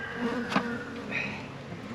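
Package honey bees hum loudly and continuously as the box front is opened to release them, with a brief clack partway through.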